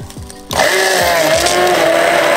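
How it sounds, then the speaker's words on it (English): After a few short bumps and clicks, a blender whirs to life and holds a loud, steady motorized roar while pureeing garlic, onions and Japanese sake for miso ramen. "Blend it all together."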